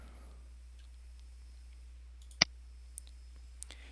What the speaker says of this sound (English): Let's click Yes here.